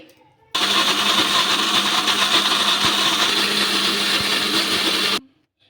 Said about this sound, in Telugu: మెత్తగా మిక్సీ అయితే పట్టేసుకుందాము మూత పెట్టేసుకొని